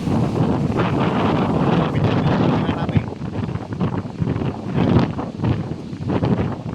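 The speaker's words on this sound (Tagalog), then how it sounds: "Lalaki ng alon dun o." Big sea waves churned by typhoon wind, a continuous heavy roar of surf and gusting wind buffeting the microphone, with surges rising and falling.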